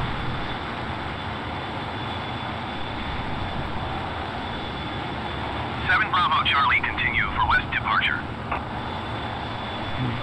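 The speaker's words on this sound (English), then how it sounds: "I think this is the first time I took off without the afterburner" An aircraft engine drones steadily as the plane climbs after takeoff without afterburner, with a faint high tone over the hum and a short burst of radio chatter partway through.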